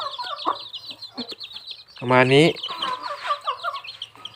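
Young chicks on a farm peep with high, scattered calls alongside louder clucking fowl, while someone speaks briefly in Thai over the birds.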